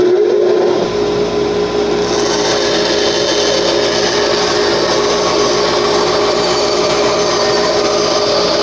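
A bandsaw in a wood workshop cuts through a piece of wood, a loud, steady whine and rasp that holds evenly after a brief start, close up with no talking.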